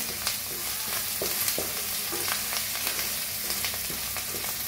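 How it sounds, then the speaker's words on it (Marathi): Masala roasting in a pan with curry leaves and hing for aloo bhindi: a steady close frying sizzle runs throughout, broken by soft scraping stir sounds at irregular intervals, with no voices. "त्याच्यात टाकूया कढीपत्ता, थोडंसं हिंग, छान मिक्स करून मसाल्याला भाजून घेऊया।"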